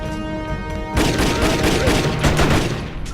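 Rapid gunfire in the video game Jet Li's Rise To Honor during a shooting segment, quiet at first and then a dense burst of overlapping shots carrying on for a couple of seconds.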